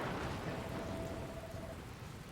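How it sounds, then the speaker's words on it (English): Rain and a rumbling thunderstorm in the Nintendo Switch game Dragon Quest Builders 2, a dense, steady downpour with a low rolling rumble beneath, loud and continuous with no voices. "Where did this rain come from?"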